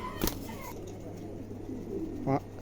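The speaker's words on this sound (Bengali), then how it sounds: "খুবই চমৎকার একজোড়া কবুতর" A short coo from a pair of large pigeons rises near the end over a steady low hum, with a brief thump early on; no talking.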